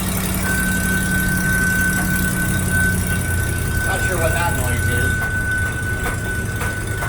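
Thin, steady high whistle from a vacuum leak on the V8 engine swapped into a 1936 Divco bread truck, running continuously over the idling engine's rumble as people talk nearby.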